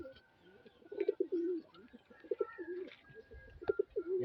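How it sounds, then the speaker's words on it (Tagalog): Repeated soft cooing calls from a pigeon or dove, several phrases in a steady rhythm, fairly close, with other faint bird chirps in the background. "Malakas na ibon yan par."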